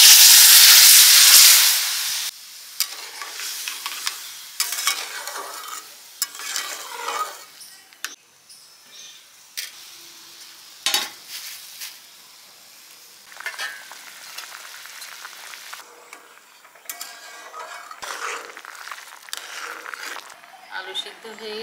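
Warm water poured into a hot pan of light paneer and potato curry bursts into a loud, brief sizzling hiss, then settles into quieter simmering and stirring while someone talks.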